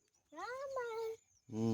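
A cat meows twice: a long drawn-out mew, then after a short pause a louder second call that starts abruptly, both close and clear with no talking.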